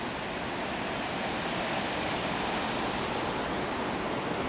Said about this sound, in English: here at the waterfall